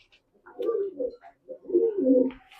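Pigeons coo nearby in two soft, low rolling phrases separated by a short pause, with no voices.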